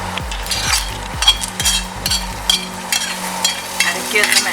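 A browned fried mixture goes into a sizzling Kerala-style mutton head curry and is stirred, giving a steady close sizzle with scraping and clinking of a spoon against the pan.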